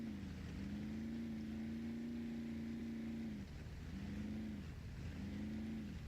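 Heavy truck engine in the off-road driving game Spintires MudRunner, a loud steady drone that drops in pitch and dips briefly as the gearbox shifts down, then resumes and wavers with another shift.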